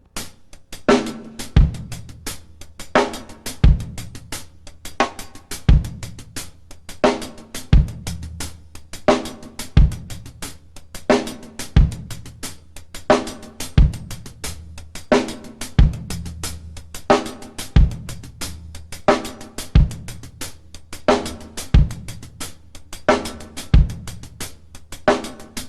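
Drum kit groove with crisp hi-hat strokes, sharp snare accents and kick drum, played in a steady funky pattern throughout, close and loud with no talking.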